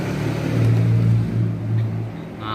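Suzuki Futura injection van fitted with an HKS Hipower racing exhaust and monel pipe wrap, idling with a steady low rumble that swells and dips a little, close and alone.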